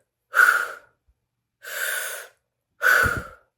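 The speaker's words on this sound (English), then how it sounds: "the first half is more of a clearing, releasing breath, deep diaphragm 360 breaths like this" Three deep diaphragm breathwork breaths, each a strong, close breathy rush lasting about half a second, spaced evenly with short silent pauses between them.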